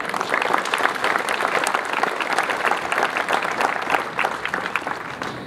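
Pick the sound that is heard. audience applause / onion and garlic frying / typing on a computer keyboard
audience applause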